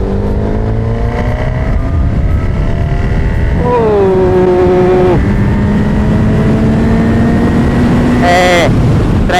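A Honda Hornet 1000 motorcycle pulls hard in sixth gear, its engine note climbing steadily under heavy wind rush, with a brief throttle blip and shift partway through, loud and close.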